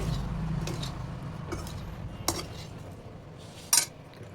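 Amla pickle being turned with a little oil in a pan, heard as a low fry hiss with scattered metal spoon scrapes and clinks against the pan, one sharper knock near the end, close and fairly quiet, no voices.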